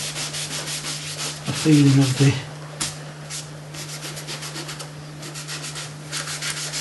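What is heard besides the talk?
rubbing a watercolour painting in lines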